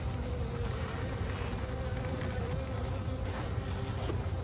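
Honeybees in a hive, with some whitened comb, give a steady, dense, even buzz, close and continuous throughout.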